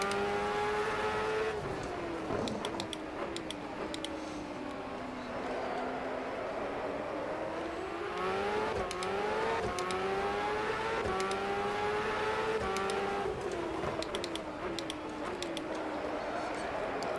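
In the Superleague Formula 2009 game, a race car engine whines on through continuous driving, its pitch sweeping up and down with each shift and corner, while a voice narrates over it.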